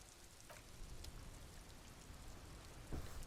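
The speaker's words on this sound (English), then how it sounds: "This rain will not let up anytime soon." Steady rain falls in the video game Disco Elysium, a dense, even patter with a few louder drops and thumps standing out, continuous and unaccompanied by voices.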